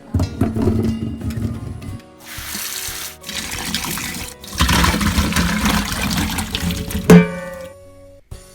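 Pieces of ash gourd being washed and drained under running water in a kitchen sink: loud, close splashing and pouring in several bursts with short pauses between them, ending with a brief knock.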